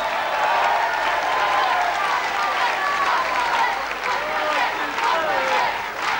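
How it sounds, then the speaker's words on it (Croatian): Applause and cheering from a crowd at a comedy evening in Imotski, 1995, a dense sustained wash of clapping with shouts and a voice carrying over it throughout. "Jedan aplauz za njega, zovnimo ga još jedan put"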